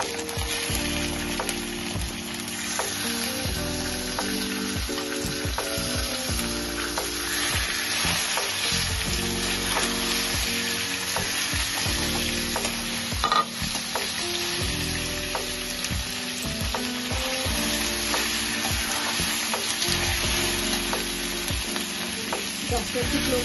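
Chicken pieces frying in a pan for a Bengali mustard curry with curry leaves, a steady low sizzle with repeated scraping and clinking as a spatula stirs, fairly quiet and continuous, no talking.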